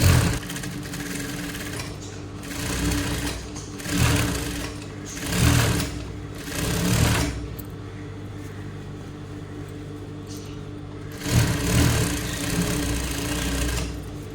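A sewing machine stitches a churidar in loud bursts of rapid needle chatter, several runs separated by brief pauses, close and dominant with no talk.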